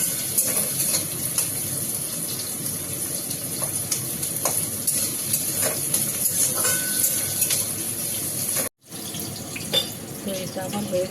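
Food stirred in hot oil sizzles and hisses steadily, with occasional scraping and stirring clatter close by, a brief cut near the end and a voice talking over it.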